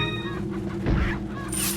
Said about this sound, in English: That's why the chickens are here.